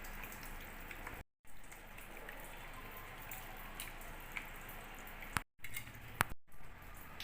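Chicken being mixed by hand with a ground paste of chili, cardamom and cloves, soft steady squishing and faint clinks at close range, with two short cuts of silence.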